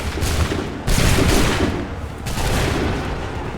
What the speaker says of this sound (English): Make ready. Open fire.